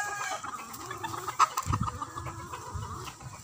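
Roosters and hens at a fighting-cock farm cluck steadily and let out a few crows, a busy flock heard close by with no talk.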